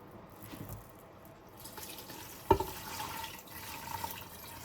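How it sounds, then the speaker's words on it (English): Water runs from a tap into a stew pot for homemade English beef stew, a soft steady trickle in a quiet kitchen with one brief splash or clink partway through. "Adding some water now."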